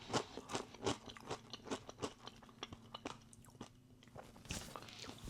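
Crunching on spicy ranch-flavored rolled Doritos chips, a quick run of close, crisp bites and chewing crackles with short pauses, quiet and without talk.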